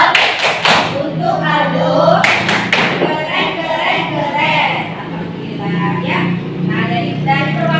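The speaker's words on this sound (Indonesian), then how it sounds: "Kita kasih tepuk keren juga" An elementary school class in Indonesia does a rhythmic 'tepuk keren' clap, a few sharp group claps at the start and again in the middle, with a teacher and children talking around them.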